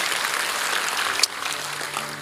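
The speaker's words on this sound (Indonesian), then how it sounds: "Berikan tepuk tangan kita untuk Tuhan kita" A church congregation claps for about a second, and the clapping fades quickly after a sharp peak. A murmur of voices and a short tone follow.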